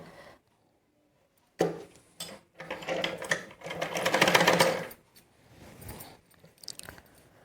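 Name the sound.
sewing machine stitching night gown fabric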